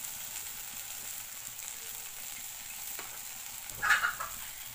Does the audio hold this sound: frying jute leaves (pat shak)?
yes